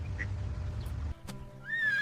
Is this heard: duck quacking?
yes